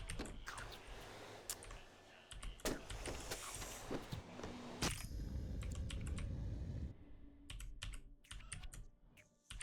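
Rapid typing on a computer keyboard, dense bursts of key clicks that swell and thin out, ending in scattered individual keystrokes against a quiet background.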